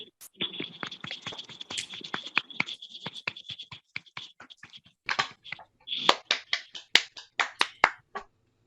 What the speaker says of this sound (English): take a moment to unmute and show your appreciation via a round of applause